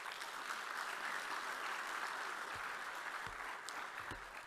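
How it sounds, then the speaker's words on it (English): Applause from the audience at a summit closing ceremony, a steady wash of clapping heard from a distance that holds for a few seconds and then thins out, with a few louder claps near the end. "kindly give him a warm round of applause"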